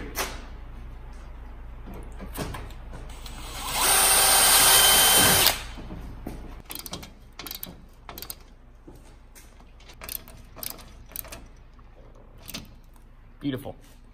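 A power drill bores through plastic for about two seconds in one loud, high continuous whir, followed by clicks, knocks and handling noises as people talk.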